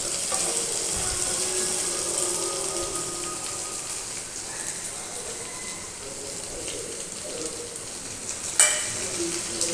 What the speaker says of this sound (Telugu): టమాటో కొంచెం అంటే స్కిన్ సపరేట్ అయ్యేంత వరకు వేయించుకున్నామంటే